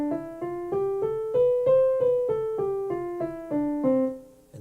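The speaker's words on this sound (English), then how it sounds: "First, the major scale." A major scale played on a pitched instrument, eight or so clear, evenly spaced notes stepping upward and back down, each sustained and ringing, played alone with no talking.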